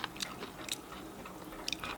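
Baby octopus, boiled in salt water and coated in spicy sauce, is chewed up close, with moist squishy bites and a few sharper crunchy clicks over about two seconds.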